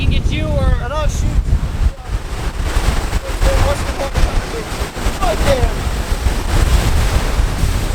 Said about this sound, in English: there's still a lot of waves that come up over here. Like right there. And they splash.